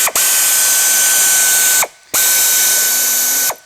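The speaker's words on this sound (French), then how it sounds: "La clé à rocher pneumatique, ça c'est top" Two loud, sustained bursts from a pneumatic ratchet wrench fitted with a 10 mm socket and extension, each buzzing whir lasting under two seconds and separated by a short pause, during timing belt work on a Scirocco 2.0 TDI 140 hp.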